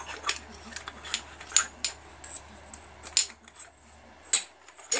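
Scissors cut apart a porcelain doll, giving sharp, irregular metallic snips and clinks spaced a second or so apart against a quiet background.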